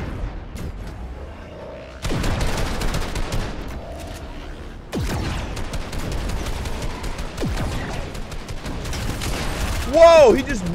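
Gunfire from a pump shotgun in an online squads shooter game: two loud sharp blasts a few seconds apart, each followed by a lingering tail, with people talking and game sounds around them.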